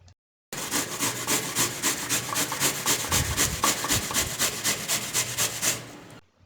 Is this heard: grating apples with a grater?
yes